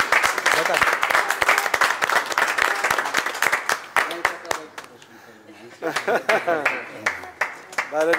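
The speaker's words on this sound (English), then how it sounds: "We gotta clap." Audience applause, dense rapid clapping from a crowd that thins midway and then swells again, heard under someone talking excitedly over it.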